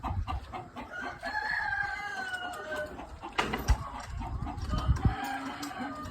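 Chickens cluck and chatter continuously nearby in a farm pen, with a rooster crowing partway through amid the flock's busy noise.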